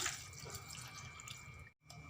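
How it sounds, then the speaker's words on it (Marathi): Cold water is poured into a mixer jar holding sugar, mint and a pinch of salt for lemon sherbet, a quiet, steady trickle that stops abruptly near the end, then resumes briefly. "यामध्ये आता थंड पाण्याचा वापर करते"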